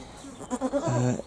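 A goat on a small self-sufficient smallholding bleats close by, a short, wavering call lasting about a second in an otherwise quiet outdoor setting.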